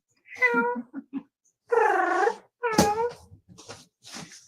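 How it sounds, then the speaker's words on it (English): A cat cries out in a few drawn-out, wailing meows with short pauses between them, close and fairly loud, with softer rustling in between. "Sound like a cat crying."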